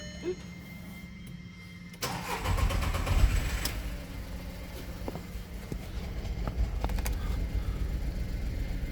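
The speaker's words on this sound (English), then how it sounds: "start the engine." A petrol 1.2-litre VW Polo engine (code BZG, engine management light on) cranks and fires up, then settles into a steady close idle with no one talking.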